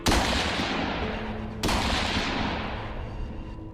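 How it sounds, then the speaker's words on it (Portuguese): Two loud gunshots from a handgun, the second about a second and a half after the first, each a sharp crack followed by a long echoing decay. "2 tiros"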